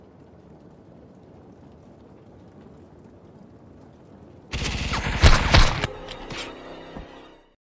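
Gunfire in a VRChat office murder mystery game: after a stretch of low room noise, a loud, close flurry of rapid shots bursts out and rattles on for about three seconds before cutting off.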